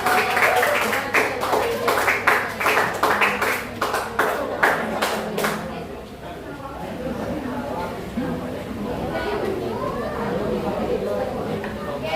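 Students in a chemistry classroom give a short burst of rhythmic clapping for a classmate, lasting about five seconds, then it stops and chatter and talking carry on.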